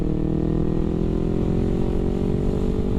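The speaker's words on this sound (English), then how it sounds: "This bike sounds amazing, honestly." A Kawasaki Ninja 250R motorcycle engine runs loud and close, a steady buzzing drone with a slight rise in pitch and no talking over it.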